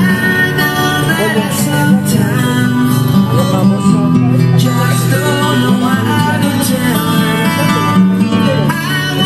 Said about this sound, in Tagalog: pakinggan natin mga boss yung tunog ng JBL.